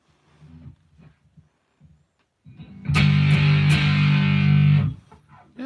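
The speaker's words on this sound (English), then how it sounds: "let's see what a DC distort does." Electric guitar played through a Headrush DC distort amp model, a short burst of thick distorted chords ringing loud for about two seconds after some quiet picking.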